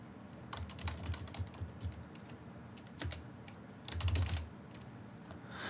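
Typing a command on a computer keyboard: a quiet, irregular patter of key clicks with small pauses and a brief denser burst near the end, close and alone without talk.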